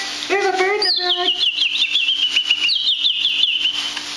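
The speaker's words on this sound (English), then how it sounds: "There's a bird in the bag." A small bird trapped inside a bag gives a rapid series of high, warbling chirps and tweets, close by and fairly loud, with a brief lower-pitched squeak near the start.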